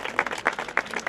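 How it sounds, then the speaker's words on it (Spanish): An audience at an outdoor sound walk in Cans gives brief, close applause, with a few distinct sharp claps rising out of the patter. "un aplauso para Tito."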